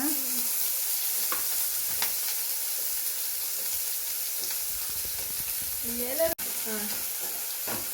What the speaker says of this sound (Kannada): ಈರುಳ್ಳಿ ಎಲ್ಲ ಹಾಕೋಣ.